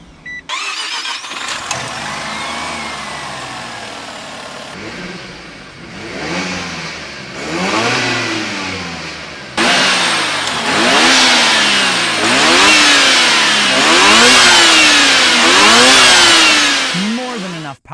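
A Mazda RX-7 FD with a 1.3-liter rotary engine cranks and fires up, then revs repeatedly in rising and falling sweeps, growing louder and raspier with sharp blips toward the end, close to the car.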